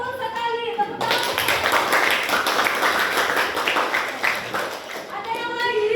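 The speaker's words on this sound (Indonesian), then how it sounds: "Tepuk tangan." Classroom applause from students, a burst of clapping starting abruptly and sustained for several seconds, with a teacher's voice speaking before and after it.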